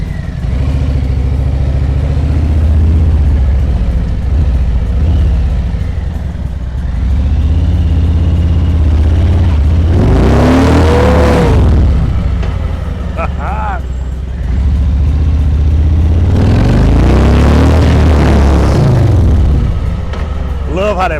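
A police motorcycle revs hard during an Arlington police officer training maneuver, two loud rising engine bursts around the middle and end of the clip, rising over a steady idle with faint voices.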